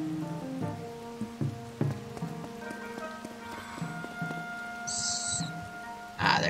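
Steady rain falls in the video game Zelda: Tears of the Kingdom, a constant hiss of drops under sustained tonal game music, with a brighter chime near the end.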